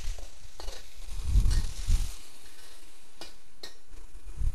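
Pork tenderloin, red shimeji mushrooms and tomato in a pan with garlic sizzle as water is added. Low bursts of bubbling noise mix with scattered utensil clatters and scrapes against the pan, fairly close and without talk.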